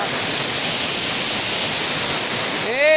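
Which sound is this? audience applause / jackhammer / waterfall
waterfall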